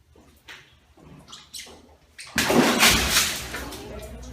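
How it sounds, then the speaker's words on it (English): A metal crown drops into a container of water with a loud splash and sloshing that follows a few quieter knocks and handling sounds. "We dropped the crown into the water, and the water that splashed out and landed on the floor has the same mass as the crown itself."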